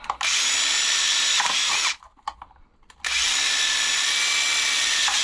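A power drill bores holes for a diesel heater pump mount, with two long, loud steady whines separated by a short pause, close by and with no talking.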